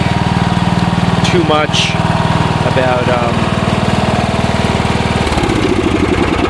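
A John Deere 160 lawn tractor engine idles with a loud, steady, rapid chugging rumble, and someone talks over it briefly.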